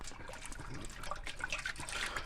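Peanut oil poured into a turkey fryer pot gives a steady liquid gurgle with irregular glugs, close and fairly loud, with no talk.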